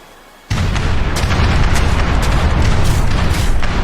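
Ship cannons fire in Age of Empires III, a sudden heavy broadside that erupts into a dense, continuous roar of booming blasts with sharp cracks, loud and sustained without letup.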